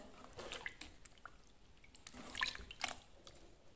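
Rice is rinsed in water by hand, giving faint, close sloshing and dripping with a few brief splashes and trickles.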